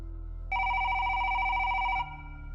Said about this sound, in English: when the public phone rang